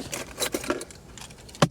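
Keys for a Fox jingle and clink briefly at close range in a handful of metallic shakes, with a sharper clack near the end; no talking is heard.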